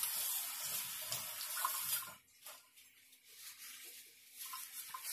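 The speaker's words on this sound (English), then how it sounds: "I'm gonna run some water on it." Tap water runs in a steady, fairly faint stream over a kitchen knife blade stained with turmeric, a continuous rushing splash that thins out partway through, then picks up again, with no voices.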